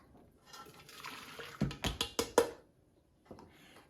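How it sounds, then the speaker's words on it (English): Water poured into a bowl for a vintage jelly slice with gelatin: a soft splashing pour builds, then a few louder sloshing bursts, a pause, and a brief final splash, close by. "In goes the water."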